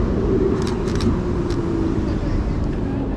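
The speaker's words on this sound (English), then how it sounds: "I almost got the car." A car passes on a city street amid a steady traffic rumble, with a few brief high clicks.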